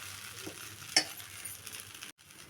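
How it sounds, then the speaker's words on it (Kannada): Dosa batter spread on a hot pan: a steady, close sizzle and hiss with a single clink near the start, no talking. "ಇವಾಗ ನಾನು ದೋಸೆ ಹಾಕಿ ತೋರಿಸ್ತೀನಿ ನೋಡಿ ಈ ಥರ ನೀಟಾಗಿ ಹಾಕೋಬೇಕು"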